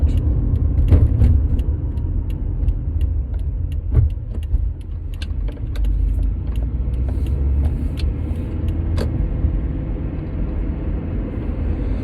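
Car interior while driving: a steady low road and engine rumble fills the cabin throughout, with scattered small clicks and rattles on top and no talking.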